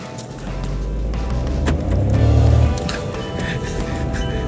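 A 2021 Volkswagen Polo TSI with a manual gearbox accelerates hard from a standstill, its low engine rumble building and peaking midway, then easing off, heard from inside the cabin.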